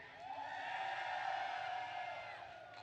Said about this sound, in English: I need you to cheer so everyone in here can hear you